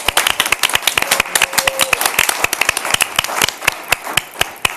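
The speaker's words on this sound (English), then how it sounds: "I want to pause and applaud you as well" Brisk applause for staff at a behavioral health commission meeting, many hands clapping in a dense, steady rattle that fills the room from start to finish.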